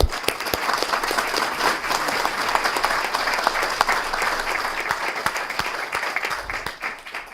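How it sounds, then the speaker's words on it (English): Audience members at a city council meeting give a round of applause, dense continuous clapping with sharp individual claps standing out, tapering off slightly at the end. "I think that deserves a round of applause."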